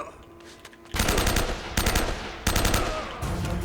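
Gunfire in the video game Uncharted: Drake's Fortune: loud bursts of rapid automatic fire come in three or four clusters after a quieter start, close and harsh.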